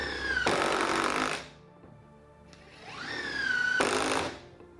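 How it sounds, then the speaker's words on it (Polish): A cordless impact driver at full power sinks 5×70 mm carpentry screws, two loud sustained bursts of rattling, hammering drive, each about a second long, with a rising motor whine between them. "Pierwsza demonstracja to proste wkręcanie wkrętów ciesielskich 5×70 przy pełnej mocy wkrętarki udarowej."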